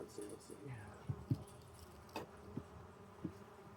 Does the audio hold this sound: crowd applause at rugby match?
no